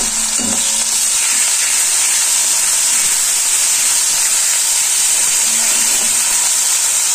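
Onion, garlic and ginger paste frying in a pan makes a constant loud hiss and sizzle throughout, with a few faint scrapes from stirring and no voices.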